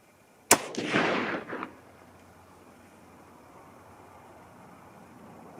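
A single loud .308 Winchester rifle shot firing a Hornady 150-grain boattail soft-point load with BL-C(2) powder, a sharp crack followed by about a second of rolling outdoor echo that fades to quiet.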